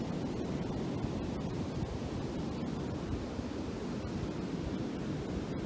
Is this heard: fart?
no